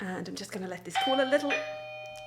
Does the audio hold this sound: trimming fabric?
no